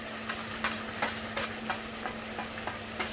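Green chili, turmeric (haldi) powder and red chili fry in a pan for a Parsi mutton dhansak: a soft, steady sizzle over a low hum, broken by regular scraping stirs roughly every half second.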